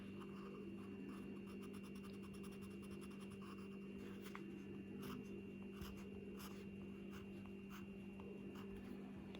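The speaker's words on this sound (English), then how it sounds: "so let's try drawing an eye." Pencil drawing an eye on paper, a faint, close scratching and rubbing of graphite in short irregular strokes over a steady low background hum, with no speech.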